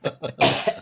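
A person coughs a few times up close, two short coughs followed by a longer, harsher one.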